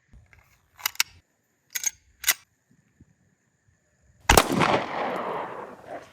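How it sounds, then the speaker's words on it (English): Sharp gunshots from a 9mm FN 509 pistol fired into level 2 body armor: three quick clicks, then one loud close report that rings and decays over about two seconds. "I've got my FN 509, and we're going to see if it'll stop the bullet"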